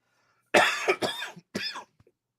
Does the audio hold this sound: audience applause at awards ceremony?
no